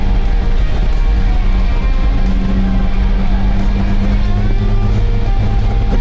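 A 2015 Alfa Romeo 4C sports car drives on a racetrack, its engine a continuous loud drone with a steady pitch that shifts slightly as it runs, with no voices.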